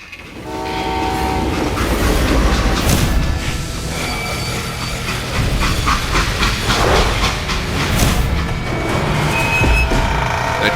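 Train in the Western game Call of Juarez: Gunslinger, loud rumbling wagons with rhythmic clickety-clack on the rails, a sustained horn tone early on and hissing steam, no talk.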